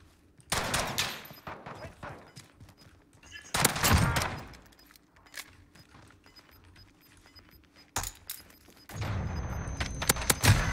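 Gunfire in Modern Warfare: several loud bursts of rapid automatic shots separated by quieter gaps, close by, with scattered single cracks between them.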